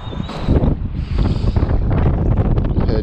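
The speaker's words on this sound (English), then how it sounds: "Wind's blowing about 20 probably." Wind blowing steadily at around twenty against a fishing boat on chilly water, a loud continuous roar and buffeting of the microphone with no talking.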